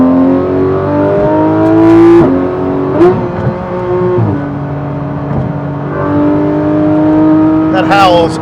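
A Porsche 911 GT3 RS engine howls loud and close, its pitch climbing and dropping through paddle-shifted gear changes with sharp revs near the end, while people talk over it.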